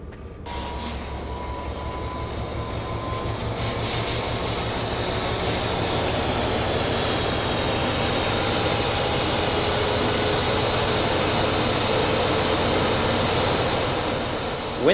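Diesel locomotive engine of a National Rail NR class loco under throttle advanced to notch 6, a loud, steady low rumbling roar that builds slightly and holds throughout, with a high whine above it and no talking.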